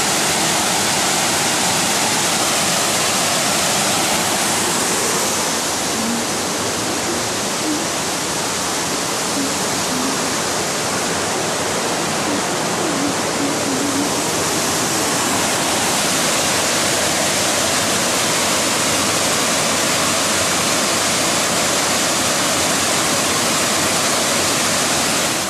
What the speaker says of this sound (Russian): Вау, какой водопад клевый.